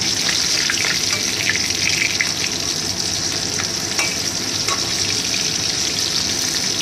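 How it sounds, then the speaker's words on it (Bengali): Chicken pakora fries in hot oil with a steady, close sizzle and a scattering of crackling pops throughout. "তেলের মধ্যে ফ্রাই করে নেবো"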